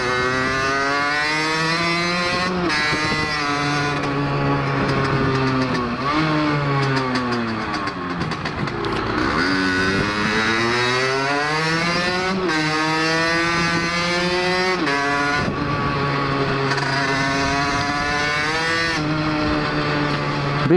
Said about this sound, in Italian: Il rumore del due tempi è sempre affascinante.